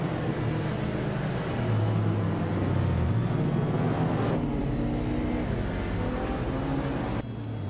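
A 1983 Volvo 242 Turbo race car drives in a racing game, with a steady loud engine drone and rumbling road noise that shifts in pitch as it runs among the pack.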